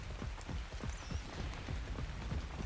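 Steady hiss of rain falling in Ark Survival Ascended on the Astraeos map, a dense continuous wash with soft low thumps of footsteps running underneath.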